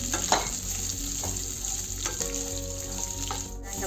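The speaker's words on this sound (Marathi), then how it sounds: "गाजर, शिमला मिरची, कांदा घातलेला आहे। तुम्हाला तुमच्या आवडीनुसार भाज्या तुम्ही घालू शकता। आपण थोडं परतून घेऊ।" Carrot, capsicum and onion are sautéed in a pan, making a continuous close sizzle with a few spatula scrapes and stirring strokes scattered through it.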